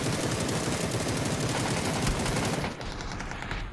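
Rapid automatic gunfire in PUBG rattles in a loud, dense, unbroken stream, then cuts off abruptly near the end and leaves a quieter rumble.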